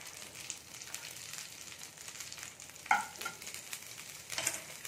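Curry leaves frying in hot ghee with mustard seeds, a faint steady sizzle with soft crackles and one brief sharp pop midway, no voices.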